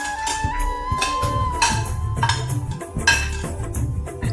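Roasted vermicelli being stirred in a pan for semiya kesari, with repeated utensil scrapes and clinks against the metal over a steady low hum, fairly close and moderately loud.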